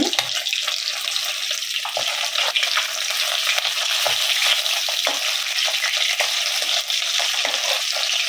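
Parshe fish frying in a pan of oil, a steady close sizzle with scattered crackles and pops throughout, no voices.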